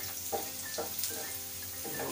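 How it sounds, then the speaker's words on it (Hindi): Cumin seeds roast in hot oil with a soft, steady sizzle. It stays quiet and close, with faint crackles and light stirring. "उसमें जीरा एक बार डालते हैं, थोड़ा सा इसको भून लेते हैं"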